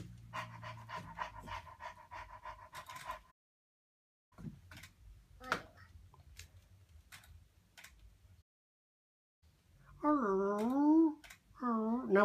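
A child imitates a dog panting, quick rhythmic breathy pants in bursts, close to the microphone, with short pauses and an adult talking in between.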